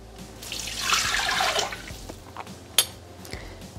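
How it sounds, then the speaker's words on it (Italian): Water poured into a Thermomix bowl, a steady splashing pour that builds and then tapers off, followed by a sharp clink and faint drips, with no voices. "Senza lavare il boccale, mettere l'acqua"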